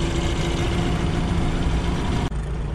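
A small two-stroke Nissan outboard boat motor idles steadily at close range, a constant low drone that briefly dips near the end.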